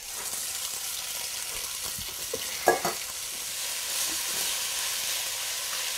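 Ground turkey fries in olive oil with a soft, steady sizzle, joined by a few scraping stirs and a brief clatter of a utensil against the pan midway.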